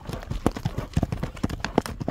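Horse hooves clip-clopping in a steady, quick rhythm of sharp knocks, close and fairly loud, at a Kyrgyz ulak horse event with a horse being shown.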